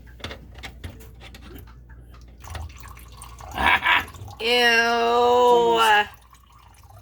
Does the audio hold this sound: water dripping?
yes